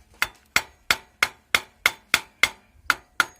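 Eleven sharp metallic taps, evenly spaced, as a piece of tire iron knocks clutch parts into place on a mining rig, close and alone with no talk.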